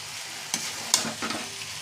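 Taro stolons with prawns fry in oil in a pan, giving a steady, dense sizzle with a few sharp clinks and scrapes of stirring, close and continuous with no talk.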